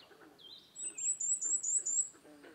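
Cape May warbler singing a series of thin, very high notes held on one pitch, five or six evenly spaced phrases, fairly near and clear against quiet background.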